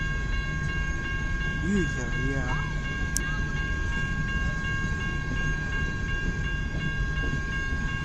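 A CN freight train keeps rumbling past nearby in Kimball Township, its continuous rolling rattle steady throughout while someone speaks briefly over it.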